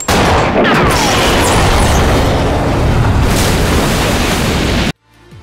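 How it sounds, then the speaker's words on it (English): A scuba tank shot and blown up in the shark's mouth in the film Jaws produces a loud, sustained roaring explosion that thunders for about five seconds and then cuts off abruptly. "shooting the tank, resulting in an extremely chummy explosion"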